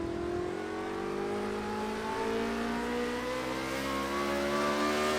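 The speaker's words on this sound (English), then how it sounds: "Just gently applying the throttle." Formula Renault race car driven on snow, its engine revving up steadily under gentle throttle with a rising tone, loud and close, no talking.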